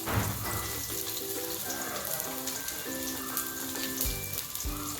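Chopped garlic, six large cloves, frying in hot oil for tomato rice, a steady dense sizzle crackling throughout, close and fairly loud, with soft background music and no talking.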